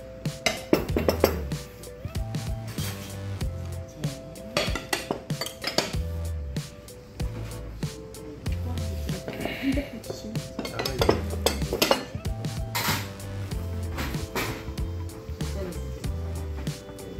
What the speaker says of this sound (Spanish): Y están agregando más platos.